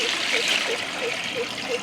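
Water is poured steadily onto rice in a pressure cooker for broiler chicken biriyani, giving a close, continuous trickle and splash that runs for the whole short stretch with no break.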